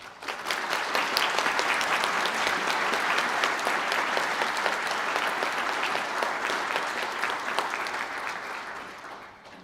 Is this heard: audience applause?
yes